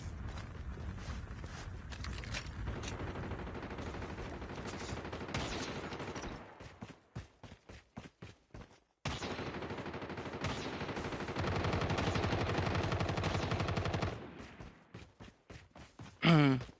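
Rapid gunfire from Call of Duty Mobile battle royale: sustained automatic bursts, then choppy spaced shots, a second long burst, and a final cluster of loud single shots.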